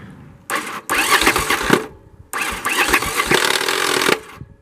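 The starter on a Yamaha Virago XV700 motorcycle, fitted with a single-carburetor conversion, cranks loudly in two long bursts with a short pause between, its engine churning without catching.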